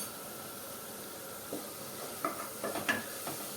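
Spices are stirred into a sizzling drumstick curry gravy, with a soft steady hiss and a few close spoon scrapes toward the end.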